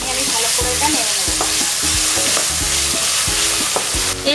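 Chopped onions stirred and fried in hot oil with spices, cooking for a pineapple prawn dish: a steady, dense sizzle with stirring scrapes, alongside a repeating melodic pattern, with no voices.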